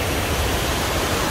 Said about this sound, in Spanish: corre el agua y se forma la cascada que ya les enseñé yo